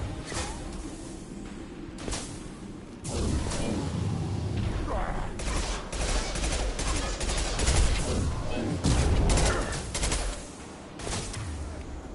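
Sustained bursts of game gunfire and impacts from Mass Effect 2 on Insanity difficulty, loud and dense through most of the clip with brief lulls, mixed with combat effects and a charging krogan, while voices call out over the fighting.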